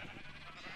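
Minecraft sheep bleating in a video game, a short wavering bleat that fills the brief moment at moderate loudness with no talk over it.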